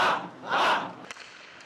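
Alabama Frozen Tide club hockey players let out a loud group battle cry in a rink in Tuscaloosa, two swelling shouted bursts followed by a sharp knock and fading room echo.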